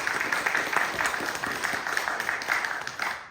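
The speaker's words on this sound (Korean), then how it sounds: "박수 한번 쳐주십시오." Audience applause at a Buddhist precepts ceremony in a temple, a steady wash of many hands clapping throughout, fairly close and even, with no voices over it.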